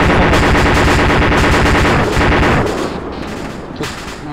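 Rapid machine-gun bursts in ArmA 2 ACE at an oil refinery, loud and dense, fading into scattered distant shots toward the end, with no voices.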